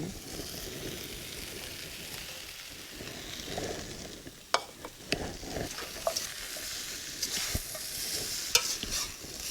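Cabbage and other vegetables, including purple head cabbage, stir-fried in a pan for a Khmer dish, with a steady sizzle and scattered sharp scrapes and clacks of the utensil against the pan.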